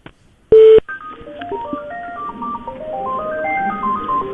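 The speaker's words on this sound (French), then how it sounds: "Alors, j'essaie de l'appeler mais attends, j'appelle." Phone dialing tones as a call is placed to a hotel: one long tone, then a quick run of short stepped beeps at varying pitches, clear and close with a faint background hiss.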